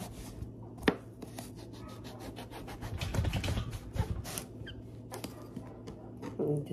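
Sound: cutting bottle gourd with a knife

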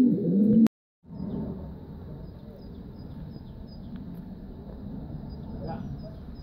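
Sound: racing pigeon arriving and cooing

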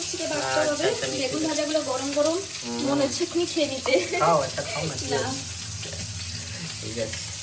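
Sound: vegetables frying in a pan

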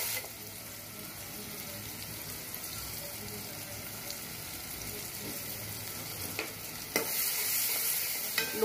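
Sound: onions and green chillies frying in a pan

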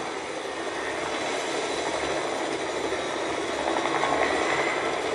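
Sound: helicopter in Fortnite video game

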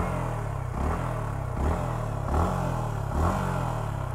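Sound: Yamaha MT-15 motorcycle engine revving to 4-5000 RPM

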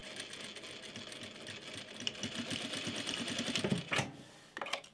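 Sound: sewing machine stitching over elastic seam on shorts waistband

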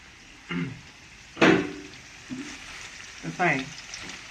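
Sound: spice masala roasting in hot oil in a kadhai

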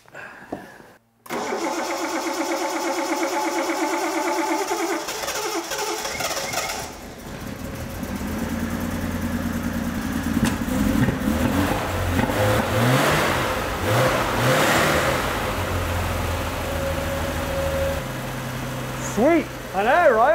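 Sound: old car engine starting without ether and revving

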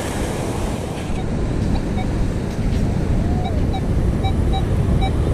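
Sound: ocean waves breaking on a beach

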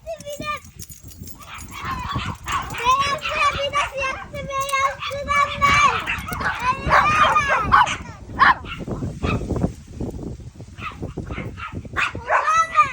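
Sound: small dog barking

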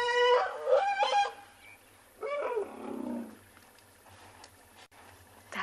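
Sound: young buffalo calf calling while being weaned

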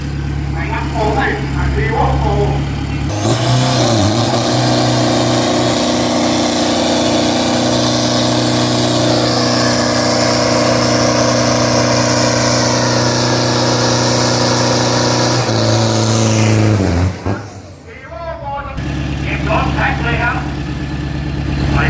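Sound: Toyota Hilux drag pickup engine revving on practice run

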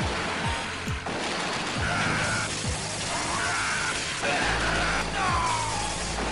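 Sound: heavy machine gun firing in the arcade video game Metal Slug 6

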